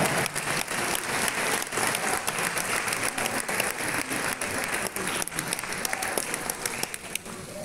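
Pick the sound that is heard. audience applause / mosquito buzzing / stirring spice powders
audience applause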